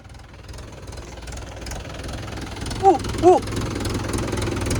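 A large tractor engine idles with a steady low knocking rumble close by on a road, with two short higher-pitched calls breaking in briefly.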